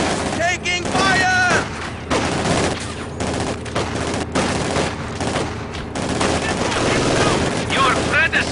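Dense battlefield gunfire from Company of Heroes 2, with rifle and machine-gun bursts and heavier booms running loud and continuous throughout, while game voices shout over the din.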